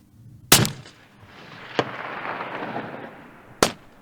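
Rifle shots fired outdoors during mountain long-range shooting in wind: two sharp, loud cracks roughly three seconds apart, with a fainter crack between them, each trailing off in a rolling echo across the slopes, with no talking.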